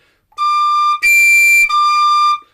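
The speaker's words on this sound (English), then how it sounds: "So for the high D, I use this fingering on this whistle" A tin whistle sounds three clear sustained notes in a row, the middle one played at high D with a different fingering, each tone pure and steady with bright overtones, close and alone with no talk.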